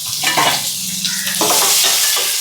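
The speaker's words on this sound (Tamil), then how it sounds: "இப்போ வந்து வெங்காயத்தை போட்டுக்கலாம்" Onions dropped into a hot pan of oil with black pepper and urad dal, a close hissing sizzle with a few clattering stirring scrapes against the pan, no talk.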